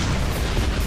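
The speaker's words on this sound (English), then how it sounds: "Big explosions seem to be a general theme in the Ballad of Gay Tony." A big, dense explosion roars with a loud, rumbling blast of full-spectrum noise throughout, from the video game Grand Theft Auto: The Ballad of Gay Tony, with its sticky bombs and explosive shotgun rounds.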